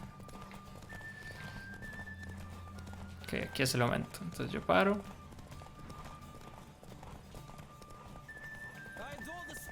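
Horse galloping in The Witcher 3, steady hoofbeats running under someone speaking Spanish, with a whinny or snort and in-game chimes and tones around it.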